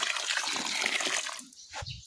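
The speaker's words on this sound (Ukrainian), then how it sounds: "Проливаю лунку водою." Water pours steadily with a broad splashing rush into a planting hole in garden soil, then tapers off into a few brief trickles and drips.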